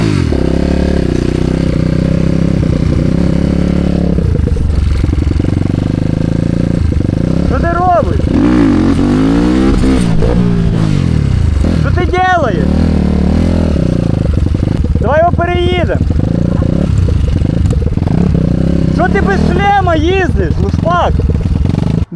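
A moped's small two-stroke engine revs in repeated rising bursts on a road, buzzing loudly and nearby, with people talking throughout.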